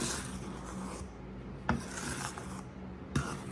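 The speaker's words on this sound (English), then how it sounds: "Let me get me a wooden spoon. We're going to stir that around a little bit." A wooden spoon stirring homemade yeast roll dough ingredients in a bowl, producing a soft, continuous scraping and rubbing rasp, with a couple of sharper knocks of the spoon against the bowl.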